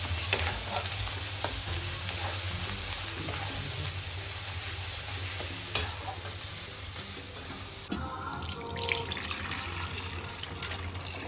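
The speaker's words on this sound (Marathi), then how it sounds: "हा लाल मसाला घाटी मसाला चांगलं परतून घ्यायचं तेल सुटेपर्यंत" Red ghati masala is sautéed in oil for mutton curry, a continuous close sizzle with soft stirring scrapes and a steady low hum, the sound thinning and changing character for the last few seconds; no one speaks.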